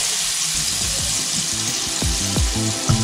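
Chopped onion, finely chopped garlic and a large piece of cinnamon sizzle steadily in a pan, with a continuous bright frying hiss and intermittent scraping stirs, alone without talk.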